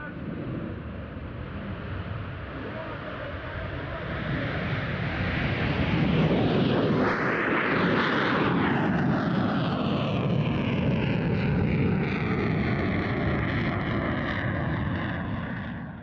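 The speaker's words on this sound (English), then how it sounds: "Ten of these Sukhoi Su-35S super-manoeuvrable multi-role fighters are in service" Sukhoi Su-35S multi-role fighter roars past at an air force anniversary airshow, a loud broadband jet rush swelling to a peak midway with a sweeping pitch shift, then a slowly fading roar with wind buffeting.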